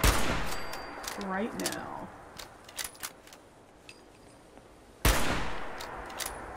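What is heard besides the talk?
gunfire shooting zombies in Fallout 76 video game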